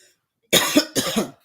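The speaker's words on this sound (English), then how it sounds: "forgive me for coughing" Two harsh, close coughs in quick succession, loud and dry, with silence before and after.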